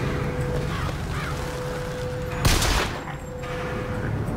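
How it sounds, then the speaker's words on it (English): Crows cawing inside the BioShock Infinite game world, a harsh burst of calls and wing flutter rising suddenly over a steady ambient game backdrop, fairly close and loud for about half a second. "Fucking crows."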